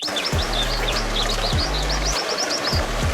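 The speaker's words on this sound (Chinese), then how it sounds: "比如说这个潭中鱼的镜头，就可以给一个潺潺的流水声，周围有小树林，再给一点鸟鸣声" Synthetic birdsong beside a woodland pool: rapid, bright chirps and tweets repeat in a quick run over a low, steady hum, close and clear.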